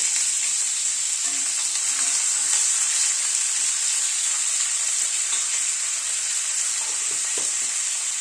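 Flat beans fry in a pan with a tempering of panch phoron and asafoetida, producing a continuous, bright, close sizzle that stays even and unbroken, with faint stirring clinks.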